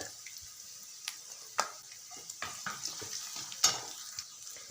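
Garlic, cumin, curry leaves and chillies sizzle in hot oil for a pav vada potato filling, a steady close frying crackle with scattered sharp pops and a few stirring scrapes, no talking.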